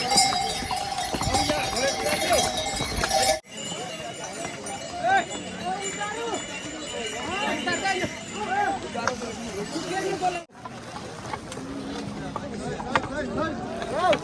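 Horses crowd a jammed Kedarnath mountain trail, hooves clip-clopping unevenly on the rocky path close by, mixed with shuffling, animal noises and steady talk from people around.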